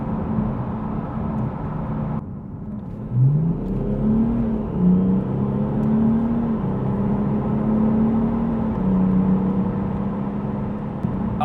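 A diesel car with a 35D engine is revved on a dyno, its loud engine note climbing and settling in repeated rising pulls over a steady mechanical roar, with no talking.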